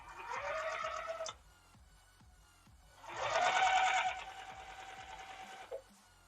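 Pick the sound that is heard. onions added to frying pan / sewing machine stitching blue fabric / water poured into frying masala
sewing machine stitching blue fabric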